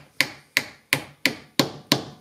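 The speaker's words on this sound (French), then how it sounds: "avec le marteau, je vais sortir les agrafes." Hammer prying staples out of a wooden beehive frame: six sharp, evenly spaced knocks, close and dry, each fading quickly, with no voices.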